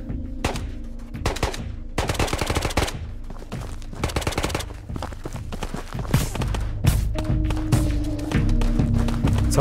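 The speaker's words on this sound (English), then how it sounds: "Someone's shooting at me silenced." Rapid gunfire from silenced weapons in the VR shooter Ghosts of Tabor, shots clustering in quick bursts with some single cracks, fairly loud and continuous through the scene amid gear and movement noise.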